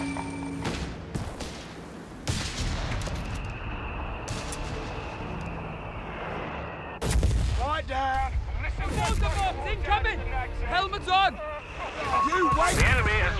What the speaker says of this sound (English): Mortar has our position!